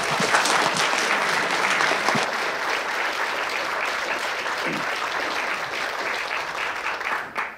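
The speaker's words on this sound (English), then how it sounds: "So big round of applause for Tom." A banquet audience at a 2017 amateur radio (DCC) gathering applauds a speaker with sustained, dense clapping that holds steady and then tapers off at the end.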